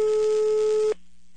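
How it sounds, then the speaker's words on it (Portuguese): A telephone ringback tone plays on an outgoing call in Brazil: one steady, loud tone lasts about a second, then cuts to near silence. "Tá chamando."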